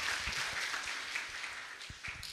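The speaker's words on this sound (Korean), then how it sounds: "So we should give our great hands to our God." A church congregation applauds during a worship service, a faint, steady patter of many hands that sounds somewhat distant and lasts the whole moment before easing slightly.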